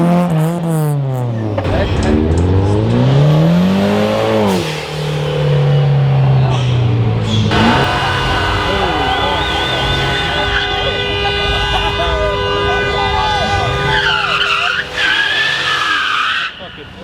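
A car at a meet revs hard and spins its tires in a burnout, engine wailing up and down before a long, loud tire squeal takes over, with people shouting nearby.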